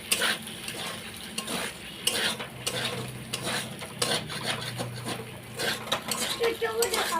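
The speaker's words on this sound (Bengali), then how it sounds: "দিয়ে দিলাম লবণ কড়াইয়ে আবার নাড়াচাড়া করে নেবো ভালো করে" Salt goes into a sizzling wok while a utensil stirs and scrapes the food in an uneven, continuous rhythm, with metallic clinks against the pan and steady frying hiss beneath.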